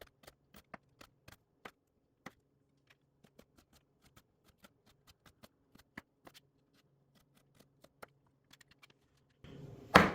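A knife chops jalapeno slices on a cutting board, a series of sharp close taps in an irregular rhythm, some quick and clustered, ending in a brief louder rustle.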